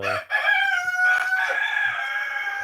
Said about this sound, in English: Dude, these roosters.